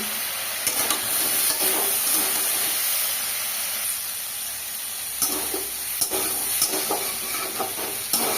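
Spiced white potatoes with kalonji sizzle and fry in a pan, a steady hiss broken by bursts of stirring and scraping from a spoon.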